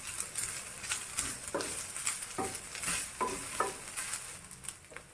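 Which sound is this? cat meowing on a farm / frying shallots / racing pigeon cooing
frying shallots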